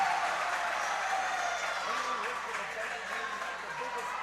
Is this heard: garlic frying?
no